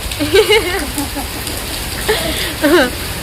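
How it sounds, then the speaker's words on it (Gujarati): Heavy monsoon rain pours down in a dense, constant hiss during a thunderstorm, while someone speaks in short phrases close by. "વરસાદ તો ચાલુ છે ને વીજળી ને કડાકા ભડાકા થોય છે"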